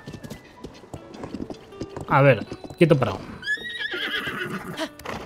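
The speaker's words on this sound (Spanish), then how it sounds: "Este caballo es muy rebelde" A giant horse in Zelda: Tears of the Kingdom lets out loud, shaky whinnies and neighs over a clip-clop of hooves, while someone speaks briefly over it.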